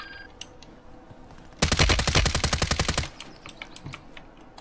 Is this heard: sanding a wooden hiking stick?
no